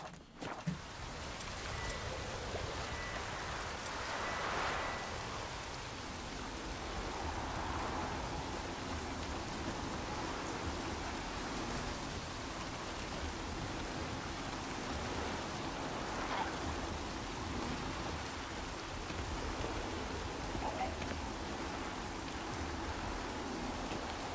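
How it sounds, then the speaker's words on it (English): Steady rain in The Witcher 3: Wild Hunt video game hisses evenly throughout, a dense wash of broadband noise with a faint low hum underneath and no voices. "Looks like rain."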